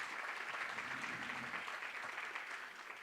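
Steady applause from an audience at a food security conference fills the room, a dense, even wash of clapping that continues throughout and dips slightly at the end.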